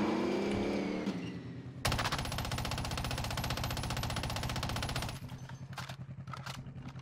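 Sustained automatic gunfire in Cold War Warzone, a dense rapid burst pouring shots into a Bertha vehicle for several seconds, loud and continuous, then trailing off into quieter clatter.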